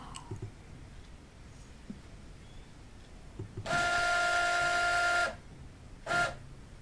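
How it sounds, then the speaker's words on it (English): A modern thermal printer connected to a calculator-style computer whirs as it prints onto paper tape, with a steady buzzing run of about one and a half seconds followed by a short second burst, after a few soft clicks. "very fast printer this one."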